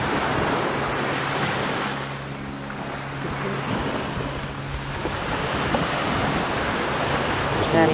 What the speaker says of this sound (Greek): κόπασε η θάλασσα πολύ.